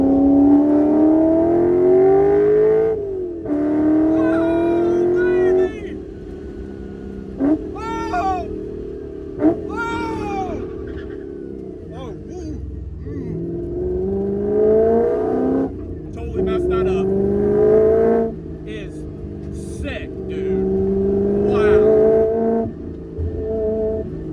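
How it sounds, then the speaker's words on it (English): A right-hand-drive BMW E30 with a V8 swap on an eighth-mile drag strip, its engine revving up through rising pitches with sharp blipping downshifts and throttle snaps, loud and close from inside the car, with voices between pulls. "I hope those downshifts come across on camera like they do in real life."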